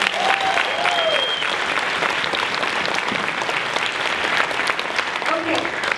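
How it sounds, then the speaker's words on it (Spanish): Loud, steady audience applause fills a business event hall, dense clapping sustained throughout with a few whistles and voices mixed in near the start and end. "Dale un fuerte aplauso."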